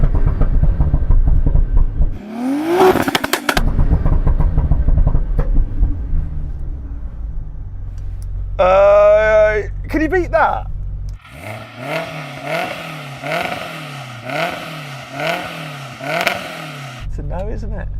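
Toyota Supra with a ZF 8-speed gearbox swap, engine revving loud and close in bursts, with a sharp throttle blip followed by a rhythmic rising-and-falling rev sequence; a voice speaks briefly over it.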